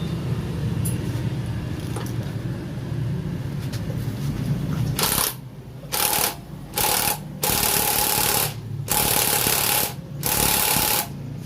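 A pneumatic impact wrench tightens brake parts on a Yamaha Mio i 125 scooter, loud rattling hammering bursts in short on-off pulses after a stretch of quieter workshop clatter.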